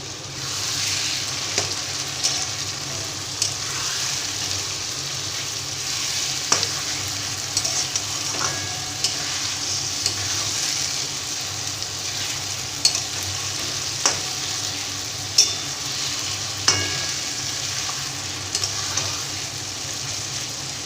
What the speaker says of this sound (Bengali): এবার এইগুলো ভালো করে নেড়ে চেড়ে নিতে হবে।